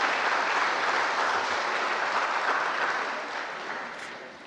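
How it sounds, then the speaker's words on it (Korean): Congregation applause at a Sunday church gathering, a broad, even roar of many hands clapping that holds steady and then gradually tapers off, heard from within the hall without voices over it. "박수 한번."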